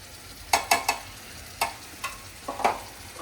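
Tomato gravy poured into a hot ghee tempering for Punjabi rajma sizzles softly, broken by several sharp scraping stirs of a spoon in the pan, with no one speaking.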